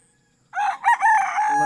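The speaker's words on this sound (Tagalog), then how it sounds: "May manok pa dyan." A rooster lets out a single loud, close crow after a moment of quiet, its strained call rising and wavering before trailing off.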